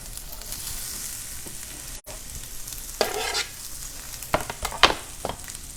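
Diced onions frying in a pan for empanadas, a continuous close sizzle with stirring scrapes and a few sharp clatters toward the end, no talk.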